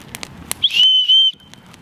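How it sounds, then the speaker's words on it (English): A single shrill survival-kit whistle blast, high and piercing, lasting about half a second between a few soft clicks and handling noises. "whistle"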